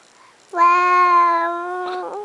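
One loud, drawn-out meow rises and holds before trailing off, sounding like a person imitating a cat.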